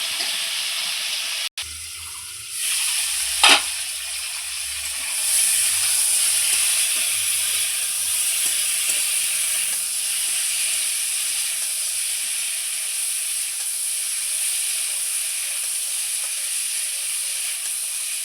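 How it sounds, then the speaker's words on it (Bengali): Drumstick stems, potato and pointed gourd with salt and turmeric fry in oil in a pan, a steady, hissing sizzle that holds for a long stretch after an early clank, no talking. "এই লবণ হলুদ দিয়ে ডাঁটাটা আমি খুব সুন্দর করে ভেজে নেব"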